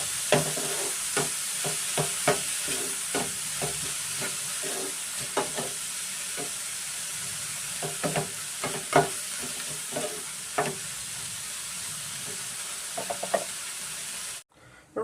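Vegetables salted and stir-fried in a pan as stuffing for samosa dosa give a steady low sizzle broken by frequent scraping stirs of a spatula, close and uneven in rhythm, ending abruptly near the close.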